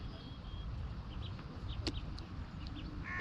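Birds by a small fishing pond give faint, brief clucking calls over steady outdoor background noise.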